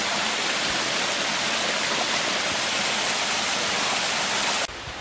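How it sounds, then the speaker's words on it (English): A creek flows past a hiking trail in Vogel State Park, producing a loud, continuous rushing hiss of moving water that stays steady throughout. "crossing the creek here."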